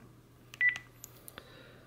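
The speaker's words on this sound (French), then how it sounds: "on va faire appel interne sur tous les téléphones" A landline phone places an internal intercom call to other handsets, giving a short burst of several quick dialing tones followed by a few soft, sparse beeps, close and fairly quiet.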